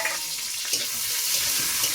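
Slit green chillies frying in a pan of hot oil, a loud continuous sizzle with scattered crackles and some stirring scrapes.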